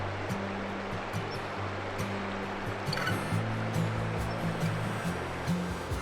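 A glacial river near Mount Assiniboine rushes steadily past, a broad, constant wash of flowing water close by, with a low humming drone underneath and no talk.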